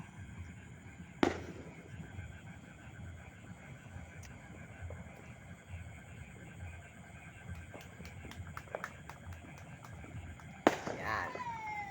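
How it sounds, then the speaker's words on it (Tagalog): New Year's Eve fireworks and firecrackers go off sparsely: two sharp, loud bangs with crackling tails stand out against a steady background hiss and distant rumble, with a few fainter pops in between. "Madalang po ang putukan dito."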